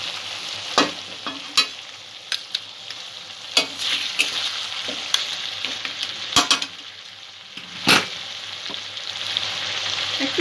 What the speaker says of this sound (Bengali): এবারে মাছের মাথাটা আমি এর সঙ্গে যোগ করে দেবো।